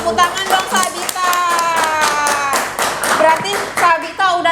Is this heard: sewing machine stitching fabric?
no